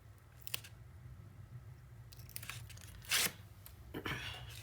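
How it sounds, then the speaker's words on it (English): Tape is peeled off paper while assembling a beach-themed 8 x 8 mini scrapbook album, a few short tearing rips, the loudest near the end, against a quiet low hum. "now we'll take the rest of the tape off"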